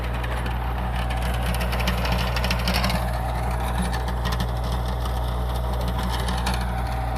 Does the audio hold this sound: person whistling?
no